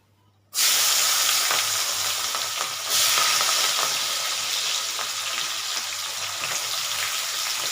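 Onions tipped into hot oil in a pan for a chicken gravy, bursting into a sudden loud, sustained sizzle after a brief quiet start, with a second surge partway through and steady frying hiss continuing to the end.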